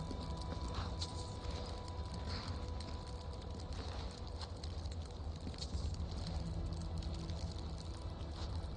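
Horse hooves clop steadily during riding in the video game Skyrim, a quiet continuous patter under a low ambient bed of game sound.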